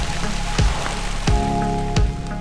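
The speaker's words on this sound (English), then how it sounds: "we were getting completely rained out" Heavy rain pours steadily through a British Columbia forest, a dense continuous hiss of drops on foliage and ground, punctuated by three sharp louder thumps of water spattering close by.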